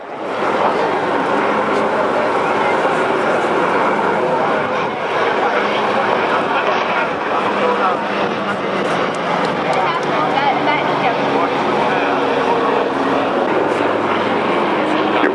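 Bomber aircraft at a WWII reenactment air show circle back for a second pass, a loud continuous engine drone that holds steady throughout. Someone talks over it.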